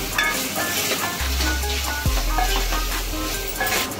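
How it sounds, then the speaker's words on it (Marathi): Pav bhaji masala and spices frying in oil, a loud continuous close sizzle with occasional stirring scrapes, no voices. "त्यानंतर सर्व मसाले त्याच्यात मिक्स करून चांगलं तेल सुटेपर्यंत ठेवू"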